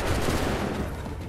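A musket volley in Assassin's Creed 3 cracks out as a dense, close burst of overlapping gunshots that quickly decays into a rough rumble.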